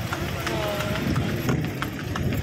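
Horse hooves clip-clop at a steady walking rhythm as the animal pulls a kalesa carriage through the streets of Intramuros, close by, with a voice speaking over it.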